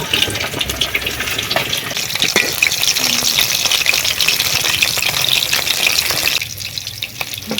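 Salted, turmeric-coated potato pieces frying in hot oil in a village kitchen make a loud, dense, continuous bubbling sizzle, close up and unbroken, easing slightly near the end.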